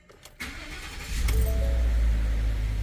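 A 2015 Ford F150 5.0 pickup engine, freshly oil-changed, cranks with a few clicks and a starter whir, then catches and settles into a loud, steady low rumble close by.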